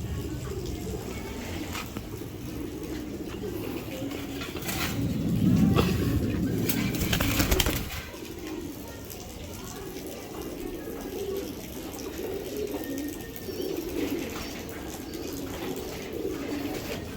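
Giribaz pigeons, a large-bodied racing breed, coo softly in a loft on a sunny day, a low murmuring that swells briefly midway before settling back into a steady background flutter.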